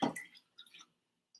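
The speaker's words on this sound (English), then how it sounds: "So, rinsing my face." A face is rinsed with water, giving a splash up close followed by a few soft drips and squishy patters that fade into near silence.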